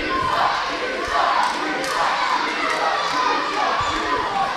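Wrestling crowd at a BIW Southern Championship no-disqualification title match, chanting steadily as a dense, loud roar of voices that swells and holds throughout.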